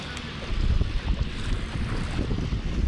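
Floodwater from a swollen river rushes over a village road, a steady broadband roar of flowing water mixed with wind buffeting the microphone, continuous and fairly loud with no talking.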